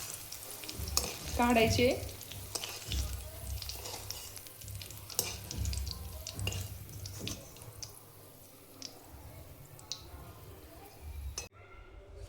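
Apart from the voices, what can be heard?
green chilies frying in oil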